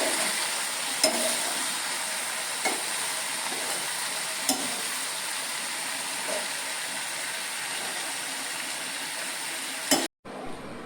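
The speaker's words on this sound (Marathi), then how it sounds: "ढवळून घेते सावकाश" Ukadgare mixture being stirred in a wok, a continuous soft sizzling and scraping with occasional louder spoon clicks against the pan, close and steady with no talk.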